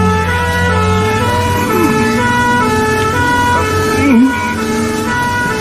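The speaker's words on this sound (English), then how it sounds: "May I come with you in the ambulance?" Ambulance siren in a radio drama, a steady wailing two-tone tone held throughout alongside a vehicle engine rumble, loud and close with no voices over it.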